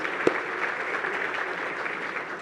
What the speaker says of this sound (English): if you want to applaud that, I think that's appropriate.